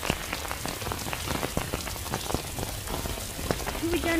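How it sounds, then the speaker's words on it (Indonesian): Heavy rain pouring down outdoors at a country park, a dense steady hiss with many sharp drops pattering on surfaces nearby, continuous and loud throughout. "Ini hujannya malah gede banget."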